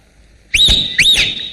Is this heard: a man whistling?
yes